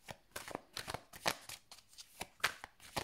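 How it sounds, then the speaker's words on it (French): Oracle cards shuffled and drawn by hand, a run of quick, crisp riffling and slapping bursts at close range, fairly quiet with no talking. "on va aller chercher 2 cartes."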